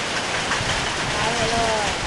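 Summer storm in Thailand with hail and rain, a loud, dense, continuous patter close by on surfaces around a library, with no talk.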